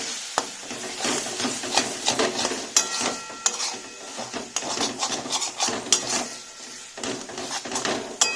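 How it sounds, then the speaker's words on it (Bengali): A spoon scraping and clattering against a cooking pot as masala is stirred, with irregular metallic knocks and scrapes, some sizzling underneath, close and moderately loud with no talking. "চলো ভালো করে এবার নাড়িয়ে নিই।"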